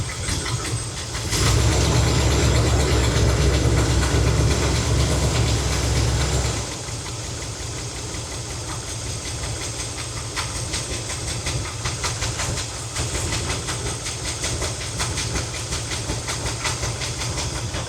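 A car engine with a Holley carburetor idles steadily nearby with a rough, continuous rumble and faint rapid ticking running through it.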